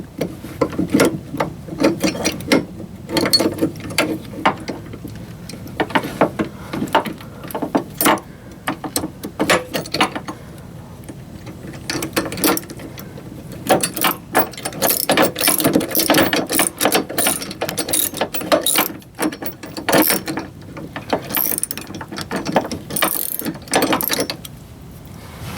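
Wrench ratcheting steadily on running board mounting bolts during an iBoard running board installation, a close, busy series of rapid clicks with brief pauses, no talking.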